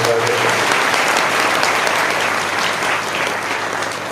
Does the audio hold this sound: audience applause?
yes